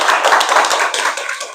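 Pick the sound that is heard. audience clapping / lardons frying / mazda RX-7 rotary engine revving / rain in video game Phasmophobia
audience clapping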